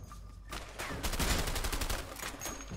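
Rapid bursts of gunfire in the video game A Way Out during a jungle fight into a compound, dense and sustained for a couple of seconds after a quieter start.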